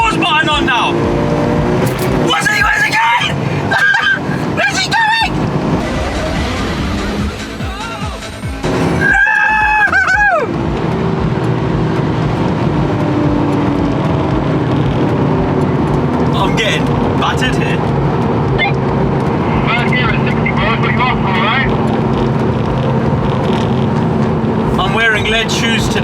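BMW E46 M3 coupe and convertible accelerate hard in third gear from about 60, their engines droning loudly and steadily throughout. People talk excitedly over the engine noise.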